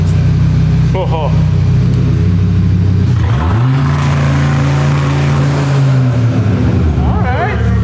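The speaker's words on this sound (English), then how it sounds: "Let's try the launch control on this thing." An Audi RS3 engine on a dyno with launch control engaged rises to a loud, steady, high-held rev that lasts several seconds before dropping, while people talk nearby.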